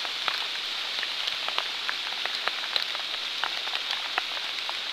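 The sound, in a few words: rain falling in flooded woods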